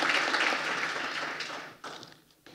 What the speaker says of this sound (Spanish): Un aplauso, por favor, para nuestra destacada panelista que hoy nos acompaña.